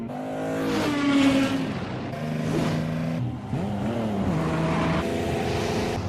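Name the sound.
car engine starting and revving, the cursed Z car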